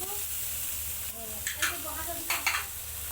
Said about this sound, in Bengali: তারপর কড়াইয়ের মধ্যে রসুন বাটাটা দিয়ে দিতে হবে